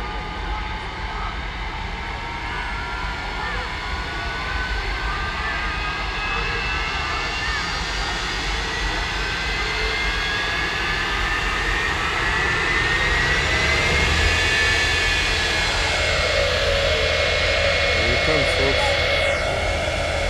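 A jet-powered drag truck's aircraft engine spools up at a Saturday night drag racing event, a loud sustained roar with a rising whine that climbs steadily and holds, filling the air with constant turbine noise.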